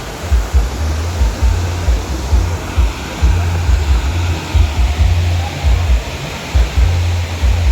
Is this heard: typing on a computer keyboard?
no